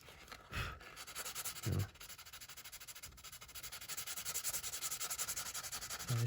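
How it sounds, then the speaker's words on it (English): A leather wallet is hand sanded with 320 grit sandpaper to clear laser marks, giving rapid, rhythmic back-and-forth rasping strokes close up, steady and moderately quiet, with no talking. "320 sandpaper here, just to remove the laser marks."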